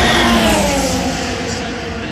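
Formula One race cars at the 2023 Las Vegas Grand Prix give a loud, close engine roar whose pitch slides downward as a car passes, with crowd or trackside noise underneath.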